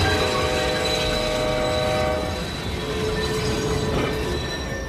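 A train passes in a film scene, its loud steady rumble and wheel noise carrying a sustained horn blast that fades after about two seconds as the roar continues.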